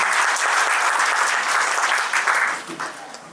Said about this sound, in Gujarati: એકવાર જોરદાર તાળીઓથી આપણે એને વધાવીએ